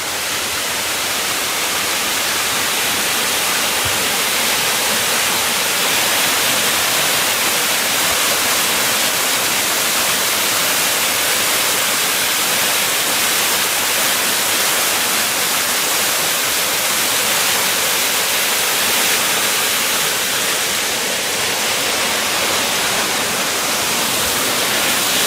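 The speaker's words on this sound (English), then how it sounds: "which is this spectacular waterfall here" A steady, dense roar of falling water, broadband and unchanging, heard close with no voices.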